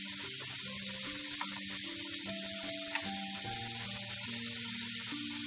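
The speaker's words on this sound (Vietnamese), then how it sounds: "mình sẽ chiên cho nó vàng ha, nó vàng vừa tới thôi chứ đừng có vàng quá." Potato pieces fry in hot oil with a steady, dense sizzle and crackle, close up and continuous, while soft music plays underneath.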